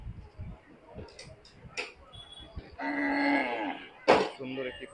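Cattle at a crowded cattle market low and moo, with one long drawn-out moo in the middle and a second shorter call near the end, over a background of market bustle and faint ticking.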